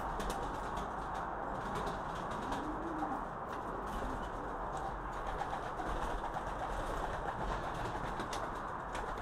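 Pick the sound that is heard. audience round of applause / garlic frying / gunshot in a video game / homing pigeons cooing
homing pigeons cooing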